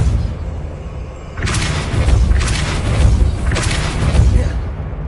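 Depulso spell cast in Hogwarts Legacy, a sudden loud boom with a whooshing burst followed by two more heavy blasts, each with a rumbling tail.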